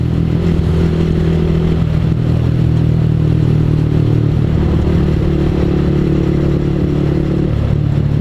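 A clutch motorcycle rolls down a sloping road, its engine a loud, steady, close drone with a slight shift in pitch midway, as if changing gear; no one speaks.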